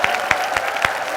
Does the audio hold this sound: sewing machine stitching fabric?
no